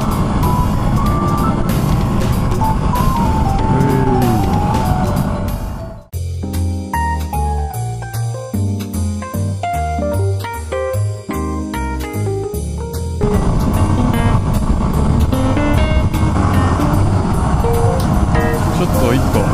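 A Yamaha WR250R motorcycle engine runs steadily while riding on an expressway, close and loud with constant wind rush, its tone shifting through a quieter, more tonal stretch in the middle before the full roar returns.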